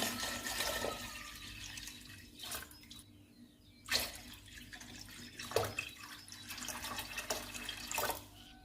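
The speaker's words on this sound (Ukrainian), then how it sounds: "заливаю водою" Water pours and splashes in bursts into a cooking pot of chopped beets, potatoes and turnip for Ukrainian borscht in a home kitchen, close and moderately loud with a faint hum underneath.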